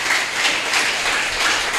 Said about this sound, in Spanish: Si crees eso, glorifica a Dios con un aplauso.